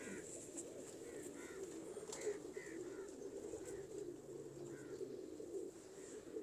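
Sandurii Palak breed pigeons cooing in soft, repeated low murmurs over a steady background hum, with a few faint higher chirps scattered throughout.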